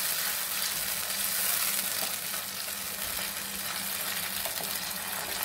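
Chili chicken sauce sizzles and bubbles steadily in a pan while being stirred, a continuous loud frying hiss with soft scraping, no voices.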